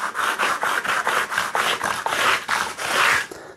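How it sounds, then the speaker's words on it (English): Quick back-and-forth strokes of 120-grit sandpaper rub over the fret dots on a guitar fretboard, about eight rhythmic rasping passes, close and loud. "I'm just going to take the 120 that we finished the board with and very quickly just take off any excess"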